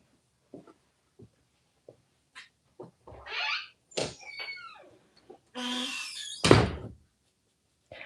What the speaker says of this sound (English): Our squeaky barn door.